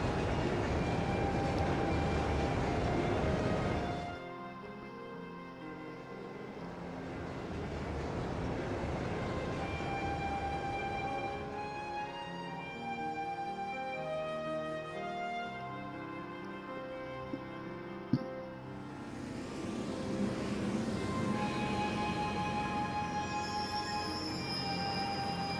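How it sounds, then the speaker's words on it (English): The Crusader high-speed train from Trails of Cold Steel II runs with a steady rumbling rush that drops to a softer hum as game music plays over it, then swells again. "High-speed train, the Crusader."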